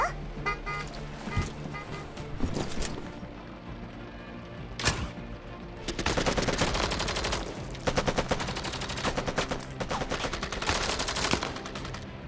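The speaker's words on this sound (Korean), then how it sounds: "로벨라, 레나, 사격 준비해" Gunfire in the video game Girls' Frontline 2 rings out in sharp single shots and then rapid, dense automatic bursts, loud and close, with game music underneath.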